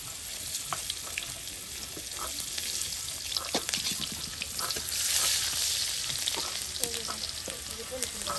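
Cumin seeds hitting hot oil in a pan for a karfu fish and vegetable curry, a loud continuous sizzle with intermittent spatula taps and clinks and no talking.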